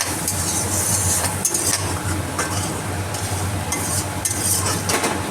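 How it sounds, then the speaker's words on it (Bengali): Ground spice paste with a splash of water is stir-fried in a pan, giving a steady, loud sizzle under continuous stirring and occasional scraping strokes of a spoon, up close with no talking. "এই জলটা দিয়েই এই মশলাটা আমি ভালোভাবে কষিয়ে দেবো।"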